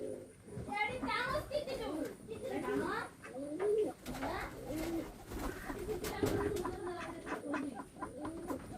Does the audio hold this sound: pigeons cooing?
yes